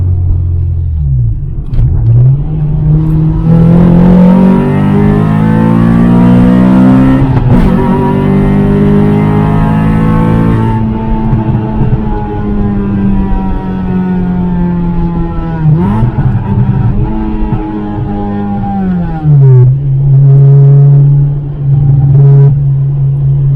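A Honda Civic EK4 with a B16 engine revs hard while driving, its pitch climbing steadily through the gears with brief drops at each shift, loud and close from inside the car with no talking.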